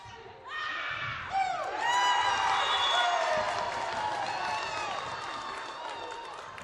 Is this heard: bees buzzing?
no